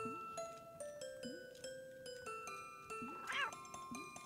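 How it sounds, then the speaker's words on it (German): A cat meows several times in the video game Balthazar's Dream, with short cries over a ringing, chiming musical background and one louder wailing meow near the end. "Eine Katze!"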